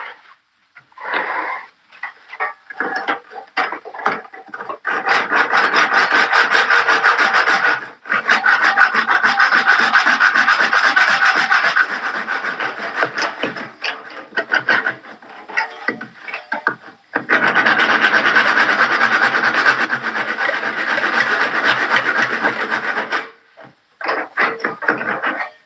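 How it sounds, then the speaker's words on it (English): A handsaw cuts through a square wooden workpiece, loud close rasping strokes in long sustained runs with brief pauses between bursts, no talk over it. "handsaw."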